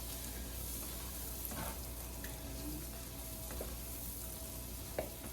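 Onions sautéing in a pan for a steak dinner give a steady, continuous sizzle throughout, with a few faint utensil clicks near the end and no talk.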